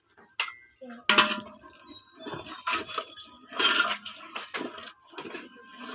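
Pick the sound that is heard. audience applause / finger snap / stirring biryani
stirring biryani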